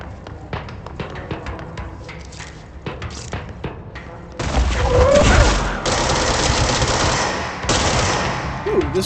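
Gunfire from a gun in the video game Control, a string of sharp single shots and taps at first, then a louder sustained stretch of rapid firing and impacts that holds steady to the end.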